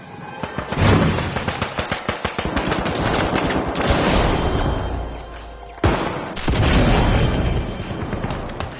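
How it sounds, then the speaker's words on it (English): In the video game The Finals, a flashbang grenade goes off amid close gunfire and a loud burst, with a second sharp blast later over continuing combat noise. "Throwing a flashbang."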